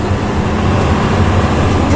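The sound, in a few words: growling exhaust of a Luragung intercity bus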